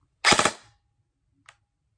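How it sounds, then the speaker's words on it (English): A Matrix Calico Jack M4 airsoft gun fires a short rapid burst of a few close snappy pops, followed by a single faint click about a second later, with no talk. "So if I was to go to full auto, hold the trigger down,"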